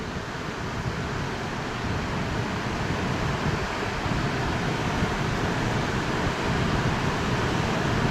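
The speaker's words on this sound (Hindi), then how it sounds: "तो ये आवाज़ है वो नदी की आवाज़ है," The swollen Alakananda river runs high after heavy rain, a broad, steady roar of rushing water that stays loud and unbroken throughout, close by, with no voices over it.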